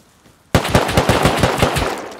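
Automatic gunfire in the video game Rust bursts in abruptly after a near-silent start, a rapid, loud, close rattle of evenly spaced shots that runs for the rest of the moment with no talking.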